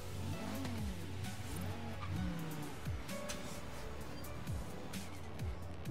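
An Audi RS2 Avant in Forza Horizon 3 revs hard, and its turbo blow-off valve gives a quick series of whooshing chirps between throttle lifts, with a steady engine drone underneath at moderate volume.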